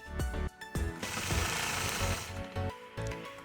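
Sewing machine quilting stitches around a patchwork block with a ruler, a loud close mechanical chatter running in short bursts and a longer sustained run with brief pauses between.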